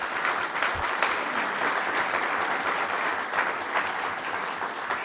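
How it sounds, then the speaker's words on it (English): An audience at a legislative coffee gathering for local districts gives sustained, even applause: many hands clapping at once in a steady wash that fills the room without a break. "Please give them a round of applause."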